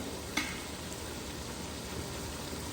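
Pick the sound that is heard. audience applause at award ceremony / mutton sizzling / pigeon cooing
mutton sizzling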